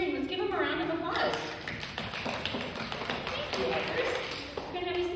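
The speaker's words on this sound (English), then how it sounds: "Let's give them a round of applause." A church congregation applauds its volunteers during a Sunday worship service, a steady, dense patter of many hands clapping that carries through the whole stretch, with voices murmuring underneath.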